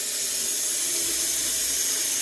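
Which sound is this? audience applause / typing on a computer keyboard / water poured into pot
water poured into pot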